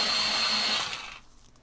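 A green-gold colored pencil grinds in a sharpener with a close, steady whirring rasp that fades out after about a second, and no one speaks.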